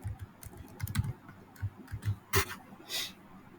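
Computer keyboard typing in short irregular bursts of clicky keystrokes, close and moderately quiet, with one louder key strike near the end and no talking.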